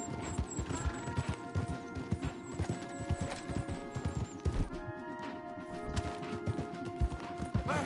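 Hooves pound in a fast, steady galloping rhythm, several horses together in Red Dead Redemption 2, with clattering and music-like tones layered over them.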